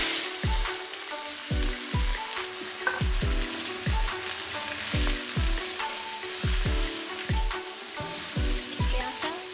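Onion fries in hot oil over full heat for a fish and potato mash, giving a loud, continuous close sizzle. Repeated low knocks of a stirring utensil against the pan run through it, and no one talks.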